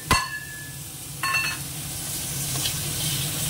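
Chopped tomato with onion tipped into a pan of frying shrimp, a sharp splash and clink followed by a steady broadband sizzle that swells slightly as the food is sautéed.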